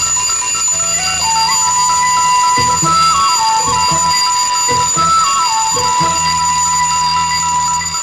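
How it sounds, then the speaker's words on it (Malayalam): A loud, steady electronic alarm clock rings without pause, its repeating tones stepping up and down in a quick melodic pattern, heard alone with no talking. "ഇപ്പൊ അലാറം വെച്ച് എഴുന്നേക്കുന്നു"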